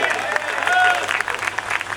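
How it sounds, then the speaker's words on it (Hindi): Dense audience applause at a Hindi comedy poetry event, steady rapid clapping throughout with a brief whistle-like tone partway through and a slight swell in the middle. "एक बार जोरदार इसके लिए तालियां बजा दो।"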